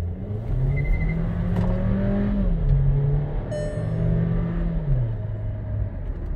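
Engine of a Volkswagen T-Cross Highline with a 1.4 motor restarting through the start-stop system on a night drive, a steady close rumble whose pitch rises and then steps down, no voices.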